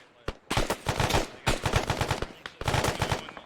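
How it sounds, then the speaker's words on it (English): Automatic rifle gunfire in ARMA 3 during an infantry engagement on a slope, loud bursts of rapid shots in three long volleys separated by brief pauses. "We're firing."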